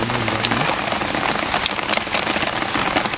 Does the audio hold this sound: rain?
yes